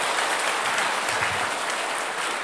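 A church congregation applauds steadily throughout in a dense, even wash of many hands clapping together, with no break.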